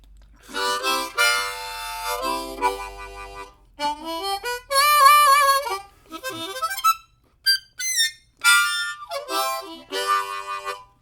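A G harmonica plays a lively bluesy phrase of bent and fluttering notes in short bursts and gaps, close and clear with no voice.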